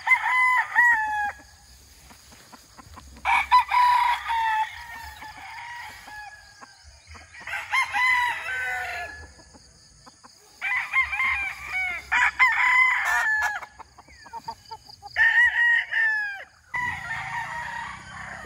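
An 8.5-month-old gamefowl stag, a Sweater crossed with Boston Roundhead, crows four times in a row, each call loud, near and drawn out, with short quiet gaps between them and other birds faintly audible in the background.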